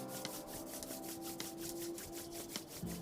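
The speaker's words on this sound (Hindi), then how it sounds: "दोनों हाथों को आपस में घिसें, रब करें" Two palms rub briskly together in a steady, close back-and-forth swish that repeats rhythmically, faint and alone, during a reiki healing meditation.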